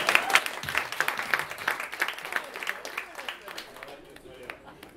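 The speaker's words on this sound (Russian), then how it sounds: "Аплодируйте, пожалуйста." An audience applauds at a live music performance with a dense burst of clapping that gradually thins and fades, while a voice can be heard speaking over it.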